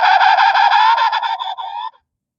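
A penguin call from a LeapFrog Nature ABC Board children's toy: a loud electronic honking squawk lasting nearly two seconds, rough and buzzy with rich harmonics, fading slightly before cutting off.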